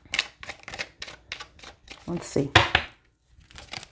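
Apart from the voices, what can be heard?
shuffling oracle cards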